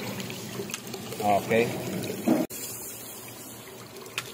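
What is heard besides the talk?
Dosatron pump pumping water on a poultry farm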